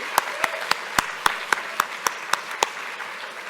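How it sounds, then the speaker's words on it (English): Claps from an audience at the Harkin Summit in Belfast, 2022: about ten sharp, evenly spaced hand claps land in a steady rhythm at moderate loudness, with no talk over them. "give her another round of applause"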